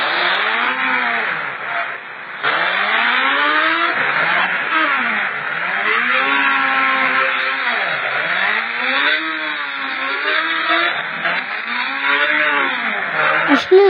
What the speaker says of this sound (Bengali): বাইক এখন আমি চালাবো